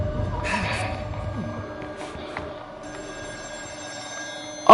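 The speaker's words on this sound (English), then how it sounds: "Oh, a phone is ringing." Old telephone bell ringing in the video game Still Wakes the Deep, set on a North Sea oil rig, heard in repeated rings against dim industrial ambience and low rumbling.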